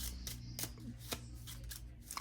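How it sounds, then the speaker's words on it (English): Cards from a tabletop dungeon card game being shuffled back into a deck, a quiet, close sequence of short riffling and flicking bursts with no talking. "So after mulligan, we'll shuffle all these cards back in"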